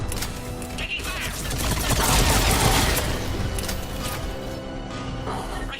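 Video game gunfire in Mass Effect: Legendary Edition, a dense rattling fusillade of shots with booms and mechanical clatter swelling loud in the middle and continuing steadily throughout.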